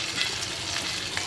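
Cabbage fritters, pre-boiled cabbage pressed flat, frying in hot oil in a home kitchen, giving a steady close hiss and crackle throughout, alone with no talk.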